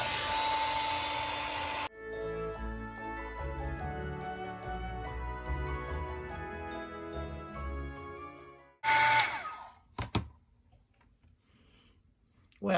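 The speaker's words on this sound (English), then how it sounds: "turn on my heat gun" A heat gun used for heat embossing blows with a steady, loud airy hiss that cuts off, then restarts briefly with another rushing burst and a few clicks and taps.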